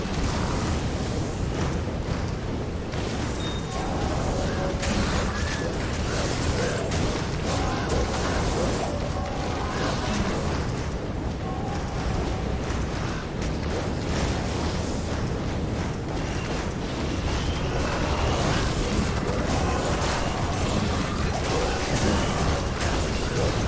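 Fiery explosions and bursts from a Fire Claw druid's abilities in a video game form a dense, continuous roar of booming, crackling impacts.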